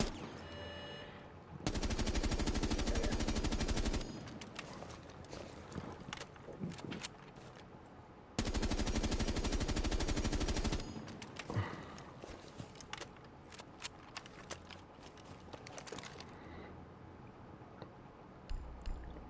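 G36 rifle fire in the video game Rainbow Six Siege during a recoil check: two sustained full-auto bursts of about two seconds each, loud and close, separated by quieter clicks and footsteps, with no talk.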